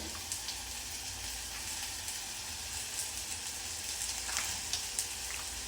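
Potatoes and capsicum sizzle in a pan with salt added, a faint, steady frying hiss broken by small crackles and pops, heard close with no talking.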